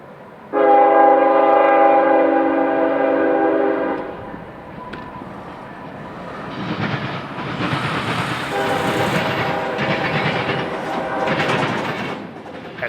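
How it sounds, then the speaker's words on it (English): CSX freight train M642 at the Dyer grade crossing, sounding a loud sustained multi-note horn for several seconds, then rumbling and clattering past with wheel noise rising and falling. "In the distance, we see CSX train M642 from Avon, Indiana, destined for Bar Yard"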